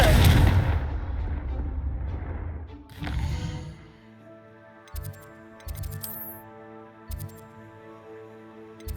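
A Confringo blasting spell fired in the Hogwarts Legacy video game produces a loud rumbling burst that fades, then a second whoosh, followed by sustained tonal game music with rhythmic chimes.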